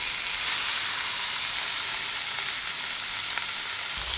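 Small fish sizzle in hot oil after being coated in turmeric and salt, a steady loud crackling hiss that fills the whole stretch with no speech.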